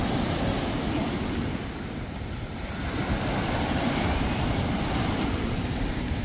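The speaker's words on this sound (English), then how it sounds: "The waves are pretty big." Big waves break on a steep lakeshore beach at Grimsby, making a steady, rushing roar that swells and eases. Wind buffets the microphone, and no one speaks.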